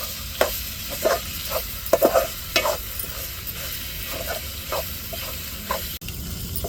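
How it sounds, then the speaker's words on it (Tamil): Dried fish (karuvadu) frying in a pan with chillies, a close, steady hissing sizzle with repeated scraping stirs of a spoon at an uneven rhythm, no one speaking. "இப்போ கருவாடு பொரிச்சாச்சு"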